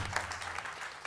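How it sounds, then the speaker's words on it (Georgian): Studio audience of a Georgian comedy game show clapping, a brief, fairly quiet burst of applause with a low hum underneath. "აპლოდისმენტები"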